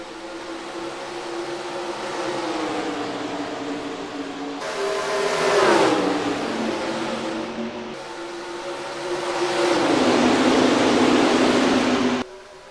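Race car engines roaring at Kentucky Speedway in the NR2003 racing game, a pack of cars droning steadily with pitch sweeps and surges as they pass, loud and continuous until an abrupt cutoff near the end.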